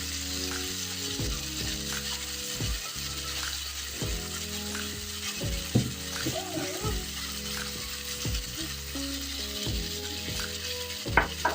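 Chopped tomatoes sizzle and crackle in a hot frying pan for a mushroom sauté, with occasional stirring clinks and scrapes against the pan.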